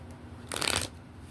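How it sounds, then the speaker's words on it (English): A deck of tarot cards is riffled once in a quick, crisp burst of fluttering clicks lasting under half a second, alone against a quiet room. "So I'm about to shuffle."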